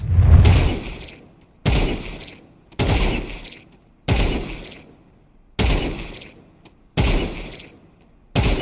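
Gunshots from a first-person shooter game ring out as six or seven loud, single reports spaced roughly a second and a half apart, each with a sharp attack and a decaying tail, with no talking over them.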